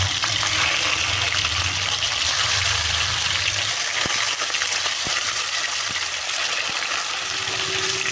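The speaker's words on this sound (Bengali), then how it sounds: "এবার আঁচে একটা কড়াই বসিয়ে দিয়ে দেব সর্ষের তেল। তেলটা গরম হয়ে গেলে একে একে মাছগুলো দিয়ে দেব।" Pieces of katla fish fry in hot mustard oil in a kadai, giving a loud continuous close sizzle with a few sharper spits and pops along the way.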